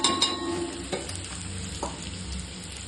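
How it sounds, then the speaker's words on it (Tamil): Onions sautéing in a generous amount of oil for chicken chukka masala, a steady soft sizzle with a few light clinks of a spoon against the pan, close up. "அதுக்காக எண்ணெய் கொஞ்சம் நிறைய ஊற்றி அதை வதக்கிடுவோம்."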